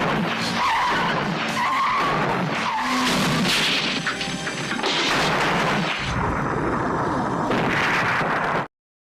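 Tires screech and skid loudly during a car chase in a 1989 action film, with engine roar, crashes and explosive bangs layered over the squeal until an abrupt cutoff.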